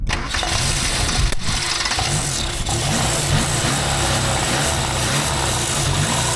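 An old Volvo engine, abandoned for 31 years, cranks and catches, settling into a loud, steady running roar after a brief stumble at the start, heard close and alone with no voices.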